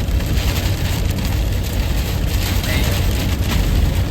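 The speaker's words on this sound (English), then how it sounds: "You can hear the rain." Heavy rain pours down during a severe Midwest thunderstorm as a loud, constant broadband roar that fills the whole stretch, with a man's brief exclamation on top.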